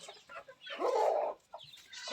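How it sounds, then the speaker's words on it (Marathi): A rooster clucks on a free-range poultry farm, giving a short, fairly close call that swells for about half a second, with softer fowl noises before and after. "आता हा कोंबडा पण तुम्ही बघू शकता"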